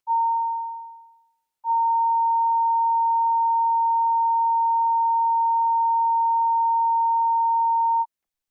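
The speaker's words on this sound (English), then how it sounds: "Committee Room 29, Sound." A pure steady sine test tone: a short tone fading out, a brief gap, then a long unbroken tone before silence.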